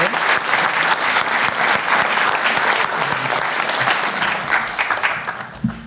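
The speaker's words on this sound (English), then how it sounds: "can we get a big round of applause for the departing board members?" A room full of people at a community appreciation celebration gives a big, steady round of applause for departing library board members, dense clapping holding strong for several seconds before starting to thin at the end.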